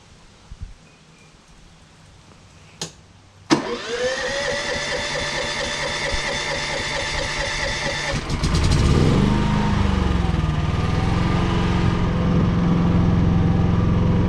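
A Champion XP9000iH inverter generator clicks, cranks and starts about three seconds in, then runs steadily at a fairly loud, even idle before its pitch and volume step up and it holds there to the end.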